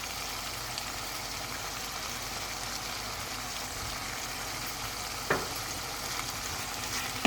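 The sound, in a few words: garlic chicken with vegetables frying on high heat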